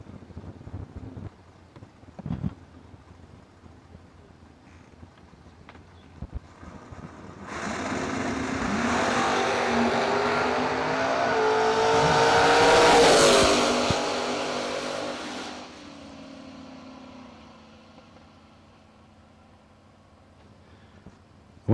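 A '79 Malibu and a Firebird launch in a bracket drag race. After faint quiet sounds, the engine roar builds loudly, peaks, then fades into the distance.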